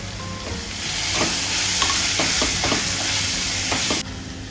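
Masala paste of ground spices, red chilli powder and turmeric sizzles steadily in hot oil in a pan, with a few soft scrapes as it is stirred; no talking.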